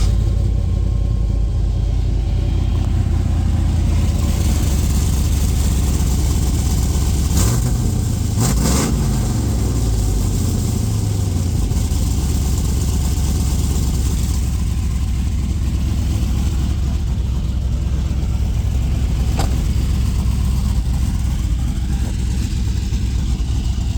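A 1994 Chevrolet Silverado with a 6.0 engine and a sloppy stage 2 cam idles with a loud, steady rumble throughout, broken by a couple of short revs near the middle.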